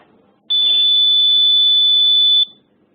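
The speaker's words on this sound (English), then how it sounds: "now we hear the alarm will be raised" A loud, steady electronic alarm tone from a heart rate sensor on a patient monitor sounds for about two seconds, starting abruptly and cutting off sharply, over faint background noise.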